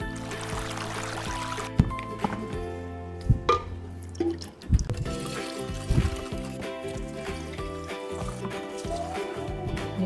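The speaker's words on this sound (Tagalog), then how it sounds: "Dagdagan ko lang ng water pa dito para hindi masayang yung lasa." Water poured into a drink container holding ice, a steady close trickle with intermittent clinks and splashy drips as the ice shifts, alone without talk.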